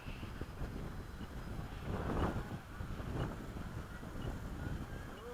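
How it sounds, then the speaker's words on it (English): Gusty wind buffets the microphone outdoors during an RC jet landing, a rough broadband roar that swells and fades in bursts, loudest in the middle, with no talk. "Whoa, weird wind right there."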